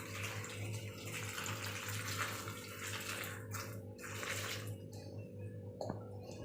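Water is poured into a pressure cooker holding salted vegetables for boiling, a steady splashing gush close by that thins out and stops near the end.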